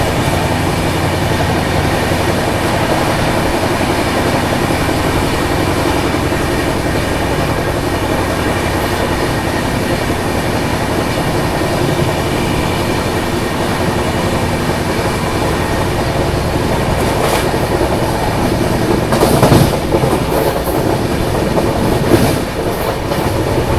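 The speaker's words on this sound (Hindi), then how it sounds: "करतारपुर रेलवे स्टेशन स्किप किया अपनी ट्रेन ने" A Humsafar express train runs through Kartarpur railway station without stopping. From inside the coach there is a loud, continuous rumble with clickety-clack and brief squeals and rattles near the end, and no talking.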